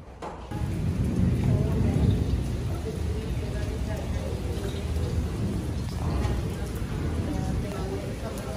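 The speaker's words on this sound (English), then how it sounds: "it's raining like crazy" Heavy rain pours steadily in a dense, loud hiss, with a low rumble underneath, continuing without pause throughout.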